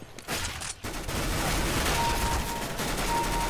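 Gunfire in the video game Counter-Strike: Global Offensive: loud, dense bursts of rapid shots fill the clip almost without pause after a brief opening sputter, with a steady tone underneath.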